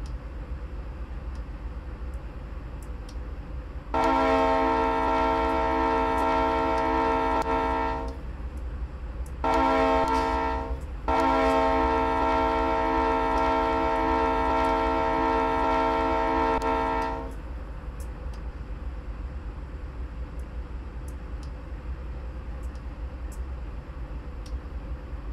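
A Dash 8 locomotive in the Train Simulator 2015 video game, its horn blaring in three loud sustained blasts over a constant low engine rumble, with no talking.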